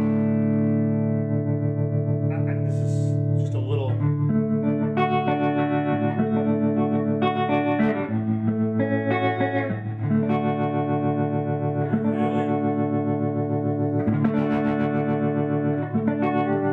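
Sustained electric guitar chords through a Magnatone Panoramic stereo amp with expression pedal ring out with heavy modulation and echo, the tone swelling and sweeping as the effect shifts, playing alone without talk.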